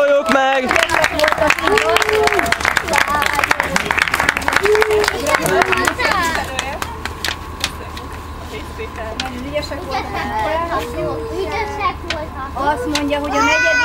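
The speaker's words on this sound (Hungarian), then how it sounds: "Tapsoljuk meg!" An audience at a charity team competition results announcement in Taliándörögd claps and cheers, loud and busy at first, then fading into scattered clapping as children chatter and voices carry on.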